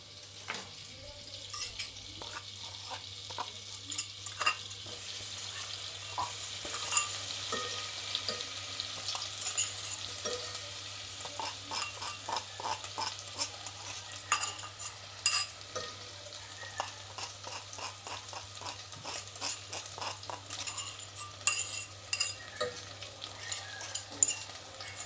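Ginger garlic paste fries in a pan for pav bhaji and is stirred steadily, a soft continuous sizzle with frequent scraping spoon clicks throughout, close and fairly quiet, with a low steady hum underneath.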